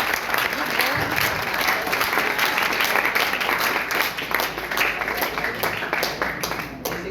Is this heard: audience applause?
yes